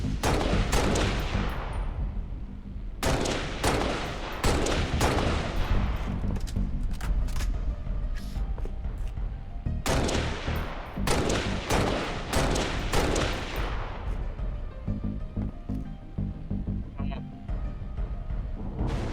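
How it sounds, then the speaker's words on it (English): Shotgun blasts in Halo: Reach on Xbox 360, loud booming shots repeated in clusters across the stretch, interspersed with other weapon fire as players talk over the action. "Shotgun."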